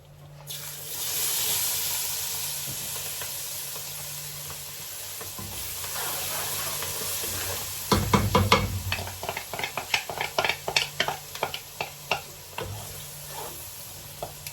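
Onion frying in a pot during Sunday cooking in an African home, a steady soft sizzle with clicks and stirring scrapes building in the second half, fairly quiet throughout.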